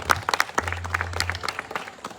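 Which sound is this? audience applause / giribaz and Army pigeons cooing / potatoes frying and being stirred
audience applause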